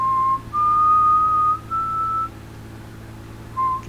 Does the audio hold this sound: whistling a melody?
yes